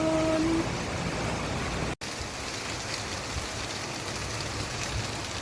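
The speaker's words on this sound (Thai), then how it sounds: "สายฝนดูแล้วมีความสุขอะเย็นชุ่มฉ่ำป้าแปะป้าแปะ" Rain falls steadily on a Bangkok street, a continuous broadband hiss with a brief dropout partway through and no one speaking.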